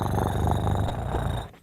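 A human voice imitates a cat purring, a low rumbling throaty vibration held close and loud for over a second before stopping abruptly.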